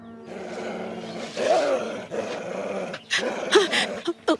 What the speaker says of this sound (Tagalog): Meron po malaki aso dito!